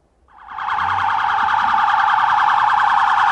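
A police car siren wails loudly and continuously at steady volume in Brazil, a warbling high-pitched tone close by with no voices.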